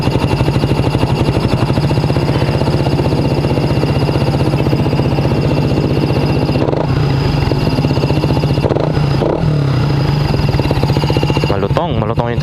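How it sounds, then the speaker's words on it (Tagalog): Suzuki Raider 150 Fi motorcycle with a modified stock muffler idling steadily, a loud, close, rapid popping putter with a crackly, uneven exhaust note. "Stock muffler kalkal Raider 150 Fi."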